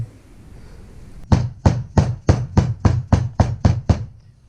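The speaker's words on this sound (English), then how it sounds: "Just use a soft rubber mallet or dead blow hammer. Just gently press it in." A rubber mallet taps a new oil seal into the front differential of a Honda Pioneer 500: about ten evenly spaced, solid, dull knocks in a steady rhythm, close and fairly loud, with no talking.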